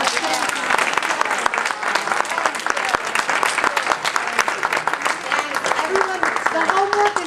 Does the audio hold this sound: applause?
yes